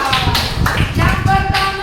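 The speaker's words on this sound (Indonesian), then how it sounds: "Tepuk tangan buat tiga." A class of children clapping hands together in a few quick bursts, loud and close, with voices mixed in among the claps.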